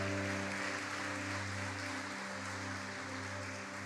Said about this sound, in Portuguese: Aleluias, aplauda o Senhor.